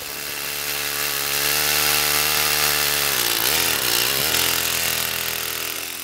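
A gas-powered ice auger drills fishing holes through the ice on Garner Lake, Alberta, its engine droning loud and steady, briefly dipping in pitch as it bogs down and then revving back up, with no talk.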